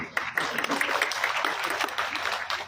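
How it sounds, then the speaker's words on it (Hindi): Audience applause at a swearing-in ceremony for nominated councillors in Nagrota, a steady wash of many hands clapping with some overlapping voices. "देखो ढेर सारी तालियां बजी आपको।"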